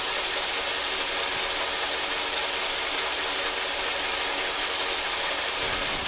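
Metal lathe cutting a thread with a single-sided threading tool, fed with the compound; a steady, loud broadband machining whir with a high whine runs continuously, with no voices.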